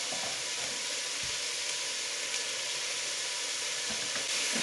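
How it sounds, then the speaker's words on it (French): Continuous close sizzling of meat pieces, including beef, browning in olive oil in a frying pan for couscous, a steady bright hiss with a couple of soft thuds as pieces shift. "dans une poêle, je vais mettre de l'huile d'olive et je vais faire revenir toutes mes viandes sur toutes les faces"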